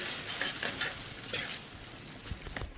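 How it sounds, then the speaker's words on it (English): Dal being stirred and mixed in a pan on the stove, a steady sizzle with soft scraping strokes from the stirring, close and continuous with no talking. "and then mix everything well"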